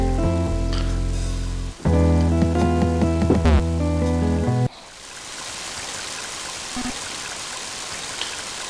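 Heavy rain in the video game Mother 3 hisses in a dense, steady wash after game music abruptly cuts off, loud and continuous with no voices.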